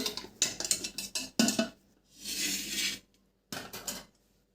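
Cooked rice dough being scooped out of a pressure cooker for ration-rice khichiya papad, with metallic scraping and clinking of utensil against the pot in short bursts separated by quiet gaps.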